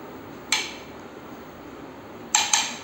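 A spoon taps against a plate while serving freshly cooked okra bhaji, one clear clink followed after a pause by a quick double clink, close and crisp over quiet room noise.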